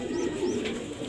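A racing pigeon coos softly after landing from a derby race, a single low murmuring coo close to the microphone with no voices over it.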